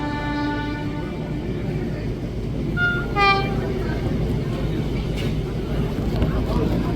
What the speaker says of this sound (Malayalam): നമ്മുടെ വന്ദേ ഭാരത് ഇതാ വരുന്നുണ്ട്